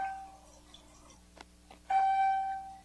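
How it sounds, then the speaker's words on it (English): A short electronic chime from a Jupiter Melody JP 104 water ionizer entering self-cleaning mode rings out clearly after a few faint ticks and clicks, its tone holding briefly before slowly fading in a quiet room. "The machine will go into self-cleaning mode indicated by the chime you just heard"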